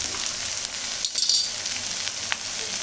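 Egg masala dosa sizzling steadily on a hot pan right after being flipped, a close, continuous crackling fry with a brief clatter partway through.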